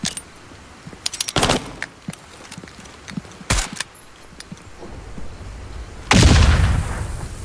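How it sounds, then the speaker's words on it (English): Grenade blasts in the shooter game Incursion Red River: several sharp booming bursts, two strong ones early and a louder, longer rumbling explosion near the end, with scattered smaller cracks and clatter between them, no talking. "So this is what I mean by grenades."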